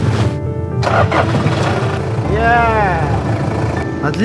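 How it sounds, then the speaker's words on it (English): A car engine cranks and catches in extreme cold in Oymyakon, around -71°C, after three hours of heating. The loud engine turns over, then settles into a rising, steady run, with background noise throughout. "We heated the car for 3 hours. Now, we're going to try starting it."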